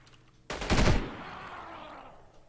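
A burst of gunfire in the video game Delta Force 2 erupts suddenly and loud, then trails off into a long, fading reverberant decay.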